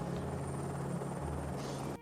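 A helicopter flies over a remote mountain wilderness, its steady, loud rotor drone and engine hum holding unbroken throughout with no voices.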